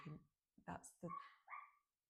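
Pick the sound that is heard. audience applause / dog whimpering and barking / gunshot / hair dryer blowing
dog whimpering and barking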